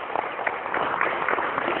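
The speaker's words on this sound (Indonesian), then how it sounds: "Tepuk tangan 4 kali." Group of campers at a leadership camp clapping together, a burst of crowd clapping with loose, uneven claps at moderate loudness, a bit muffled.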